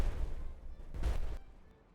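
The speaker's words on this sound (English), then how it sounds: "One more big explosion." Dynamite explosion in the video game Timberborn, two heavy booming blasts about a second apart with a rumbling decay, fairly quiet overall and without talk.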